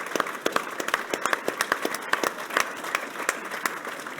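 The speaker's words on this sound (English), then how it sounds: "we remember him here with a round of applause" A live audience at a horse racing preview event gives a steady round of applause in memory of a late jockey, dense overlapping claps filling the room at moderate level with no voices over it.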